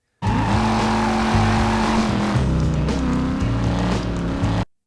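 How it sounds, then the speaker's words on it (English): A race car engine in Driver: Parallel Lines on PS2 revs and shifts gears loudly and steadily, with tire noise, for a few seconds without talk. "The cars sound authentic."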